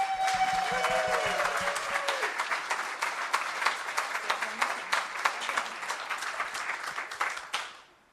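An audience applauds in welcome of Reverend Sandra: dense, steady clapping from a roomful of people lasts about six seconds, then tapers off and fades to silence.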